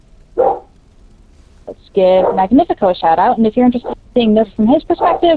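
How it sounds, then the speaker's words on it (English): A dog barks in the background, with a short bark near the start, while a person talks over most of the clip. "I apologize if you can hear my dog barking in the background."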